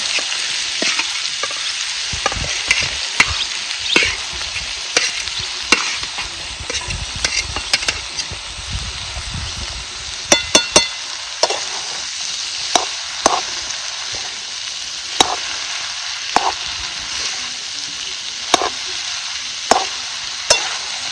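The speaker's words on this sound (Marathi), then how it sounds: "आता ह्यो ना अर्धा अर्धा करून आपल्याला शेंगसोला चांगला असा परतून घ्यायचा" Shengsola frying in hot oil and being turned over, a loud steady hiss of oil with frequent sharp spatula taps and scrapes recurring every second or two, close up with no one talking.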